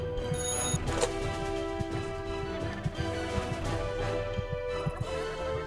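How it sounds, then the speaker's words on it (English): A telephone rings repeatedly in the Joseph Stalin Simulator video game, a steady electronic bell tone with regular pulses under a low game background hum. "Oh my god, another phone call."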